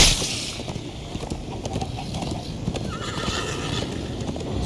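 Horse neighing and galloping in Minecraft Story Mode: a loud whinny rings out near the start, then steady clip-clop hoofbeats run throughout over busy game effects and music.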